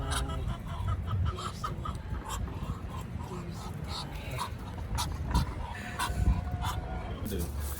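Quail in a homestead cage, with a busy mix of short chirps and calls scattered throughout, close and fairly soft, along with rustling and other animal noises in the background.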